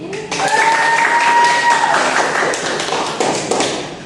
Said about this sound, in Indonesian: can you give applause for Hani?